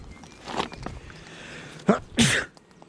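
A person sneezes during an outdoor beehive inspection: a sharp, close sneeze with a quick follow-up burst near the end, after a quieter stretch of handling noise.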